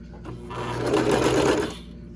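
A serger stitches fabric for cloth diapers in a short close burst, its motor whirring up quickly, holding a busy mechanical hum for about a second, then winding down.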